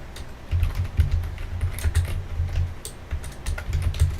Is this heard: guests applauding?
no